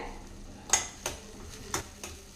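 A spoon stirs tomato and masala in a cooking pan for a cowpea gravy, giving four distinct metallic clinks and scrapes against a quiet, faintly sizzling background.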